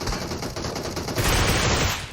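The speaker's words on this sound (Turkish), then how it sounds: "Groza sprey. Adamı yok eder hele ki bu mesafeden." Rapid spray of Groza assault rifle fire in PUBG Mobile, a dense continuous burst of close gunshots that grows louder and heavier partway through, with no talking.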